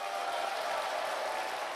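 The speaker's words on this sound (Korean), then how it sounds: "자기 자신을 위해서 한번 커다랗게 박수 한번 크게 부탁드리겠습니다" An audience of business owners claps at a sales seminar, a brief, even wash of applause that is fairly quiet and steady throughout.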